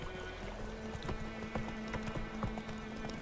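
Horse hooves clip-clopping at a steady walking pace in The Witcher 3 video game, close and rhythmic over a low ambient game bed.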